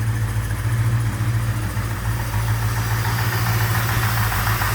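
A Dodge Daytona's mostly stock engine with a mild camshaft and original carburetor idles close by, a loud steady low rumble with a faint rhythmic lope and no voices.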